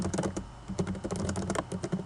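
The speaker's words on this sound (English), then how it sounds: "So we type out the answer we believe is true." An answer is typed on a computer keyboard, with quick, uneven key clicks and taps in a close, quiet room and no voices.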